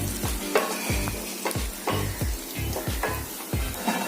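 Eggs shallow frying in oil for Burmese egg bhejo, with a steady close sizzle and rhythmic scraping strokes of a utensil roughly every half second.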